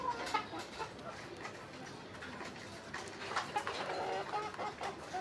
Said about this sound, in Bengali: এখানে কিছু রাতা আছে, একটা রাতা মাশাআল্লাহ, রাতাটার কালার অনেক সুন্দর হয়েছে, লালের মধ্যে।